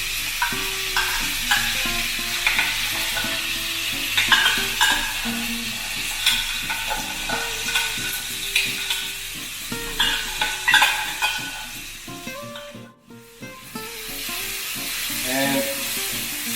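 Corned beef is stirred and sautéed with tomatoes in a spicy masala mixture, making a continuous loud sizzle broken by repeated scraping and clanking strokes of a spoon against the pan, with a brief pause near the end.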